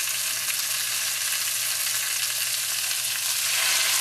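Stuffed pork chops searing in butter in a hot pan, a dense, even sizzle holding steady and loud throughout, close up and with no voices.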